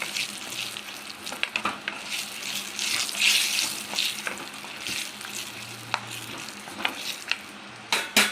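Spices with half a spoon of asafoetida sizzle and crackle in hot oil for a tomato chutney tempering, with intermittent sharp pops and stirring scrapes, close by and moderately loud.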